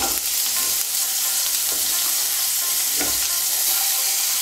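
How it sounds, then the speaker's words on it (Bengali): Ginger paste hits hot oil in a pan, setting off a loud, continuous close-up sizzle with a few sharper bursts of spatter and no talking. "এর মধ্যে এখন আমি আদা বাটাটা দিয়ে দেব"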